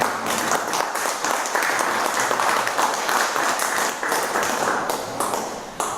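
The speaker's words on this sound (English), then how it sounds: "The boys can clap for you." An audience claps enthusiastically in a steady, dense burst of applause that carries on for several seconds.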